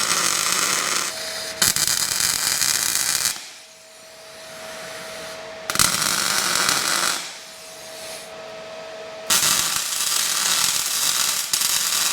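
A welder joins a mount onto a GQ ute with three loud, sustained bursts of hissing, crackling arc noise, separated by quieter pauses.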